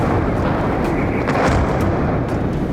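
A missile strike near Lviv gives a loud, sustained explosive roar: dense low rumbling and crackling that stays steady for the whole short stretch, with no voices.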